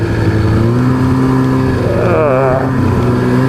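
Snowmobile engine droning steadily up close on a tight wooded trail in Manitoba, Canada, its pitch wavering and rising briefly as the rider works the throttle, continuous and loud throughout.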